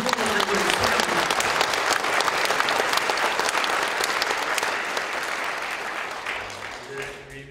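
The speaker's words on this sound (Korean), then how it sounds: "여러분 큰 박수로 이승범 목사님을 소개합니다" A church congregation applauds as a pastor is introduced at his installation service, loud sustained clapping from a large crowd that gradually thins and fades, with voices emerging faintly at the end.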